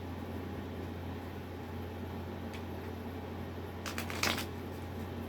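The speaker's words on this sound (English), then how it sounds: "If you don't like the shuffling, fast forward." A deck of tarot cards gets a quick riffle shuffle, a brief papery flutter near the end of a quiet stretch of steady room hum.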